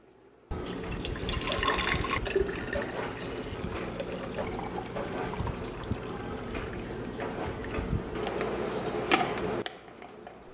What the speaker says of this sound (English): after letting the tea sit for about 15 minutes, I am straining it into another mason jar